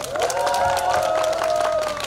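Crowd applause and some cheering ring out at an outdoor local election campaign rally, a dense continuous patter of clapping with voices mixed in throughout.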